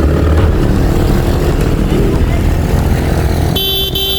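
Motorcycle engine and horn on a road during a cycling race, a continuous loud vehicle rumble with a sharp tonal horn blast near the end.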